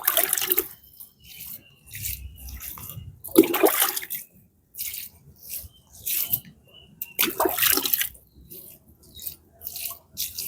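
Water splashes and gushes in irregular bursts, with short pours followed by pauses and dripping, close by as plants are watered.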